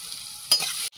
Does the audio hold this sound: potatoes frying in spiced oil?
yes